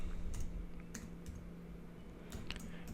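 Keyboard typing while writing HTML code on a computer, a few scattered clicky keystrokes over a steady low hum, fairly quiet with no talking.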